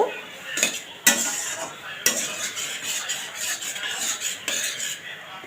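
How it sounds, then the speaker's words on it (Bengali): A spoon stirs vegetables in a metal pot while arhar dal is cooked, with a continuous scraping swish and a few sharp clinks against the pot, close and alone. "তো সবজিটাকে ভালো মতো নাড়ব।"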